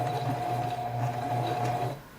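Sewing machine stitching Climashield insulation fabric for an underquilt through the presser feet, a steady close mechanical whir with a constant hum running for about two seconds before easing off.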